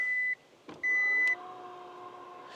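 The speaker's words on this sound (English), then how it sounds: "If we close it, let's listen to the beeping sound." A Hyundai Ioniq 6 RWD chimes as its front trunk lid is shut: two clear electronic beeps, with a thud of the closing frunk between them, then a faint lingering hum, close by and without talk.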